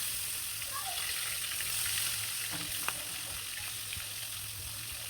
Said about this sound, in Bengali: মাছগুলোকে সুন্দরভাবে লাল লাল করে ভেজে নেবো